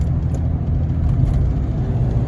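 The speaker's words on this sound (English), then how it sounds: "There it went ahead and downshifted in the 4th" Steady low rumble of a Cummins diesel pickup towing a large fifth wheel trailer, droning continuously up close with no clear shift point.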